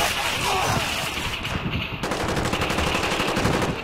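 Rapid gunfire from a shooter video game crackles in dense automatic bursts, steady and loud throughout, with game effects layered over the shots.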